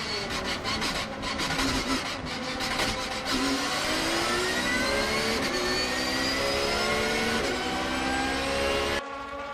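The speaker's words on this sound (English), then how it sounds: "listen to the sound of the Porsche" A Porsche race car at a Le Mans-style race, its engine giving a loud, sustained, rising and shifting roar as it passes close by, with overlapping tonal engine notes under continuous track noise and no talk.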